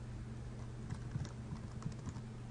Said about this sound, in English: start typing, creating bullet points.